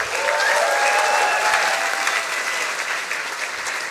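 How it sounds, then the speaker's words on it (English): Steady applause from a sizable crowd at a science slam event, loud and sustained for several seconds and fading slightly toward the end. "Big applause for Tamanna."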